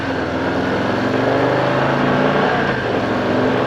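A 2024 Harley-Davidson Low Rider ST with a 117-cubic-inch engine rumbles steadily and loudly at close range, holding a continuous throaty drone with a slight swell partway through, no voices.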